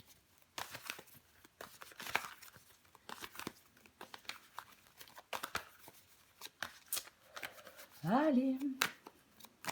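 Tarot cards shuffled, slid and flipped over in scattered papery clicks and rustles at close range, with a brief spoken word near the end.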